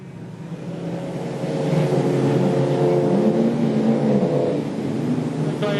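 Production sedan race cars at Maryborough Speedway accelerate together off the race start, a loud, sustained engine roar that rises and swells as the pack picks up speed.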